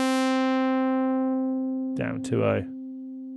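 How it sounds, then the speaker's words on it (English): A sustained synthesizer tone is filtered from a bright, buzzy sound down to a soft, nearly pure sine-like hum that keeps ringing while someone briefly speaks over it. "it's tending towards being a sine wave"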